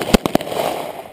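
M9 pistol shots at an outdoor firing range at Schofield Barracks, Hawaii: three sharp, close reports in quick succession within a fraction of a second, followed by a short ringing decay.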